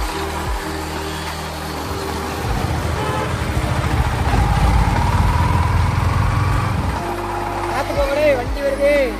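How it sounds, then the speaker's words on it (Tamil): A vehicle engine drones and builds as it approaches on a road, with a horn toot and voices talking over the rising motor noise. "வண்டி வருது."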